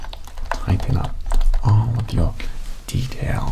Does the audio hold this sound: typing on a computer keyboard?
yes